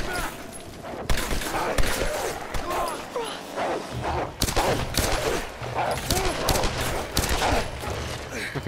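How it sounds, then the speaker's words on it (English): Gunfire in the video game Tomb Raider 2013, rapid bursts of shots and thuds crackling over a busy, dense game soundscape, loud and nearly continuous from start to finish. "Ooh, I can hear gunshots."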